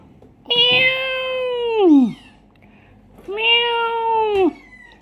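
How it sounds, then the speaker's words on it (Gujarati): A mother cat meows twice, two drawn-out cries close by with a short pause between them, each one sliding down in pitch at the end. "સરસ મજાની મીંદડી અને એના બચ્ચા ઘરે આવ્યા હતા"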